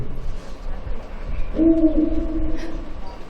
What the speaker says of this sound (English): Listen, an owl's cry, a sign of death.